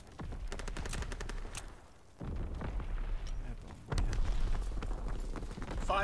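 Rapid strafing-run gunfire in a WWII video game, with dense bursts of automatic fire and blasts running continuously and growing louder in the final seconds.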